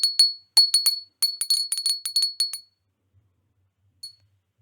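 Close handheld bell rung in short bursts for a tarot group choice: two quick dings, a brief flurry, then a longer bright jangling run, pause, and one last faint ding.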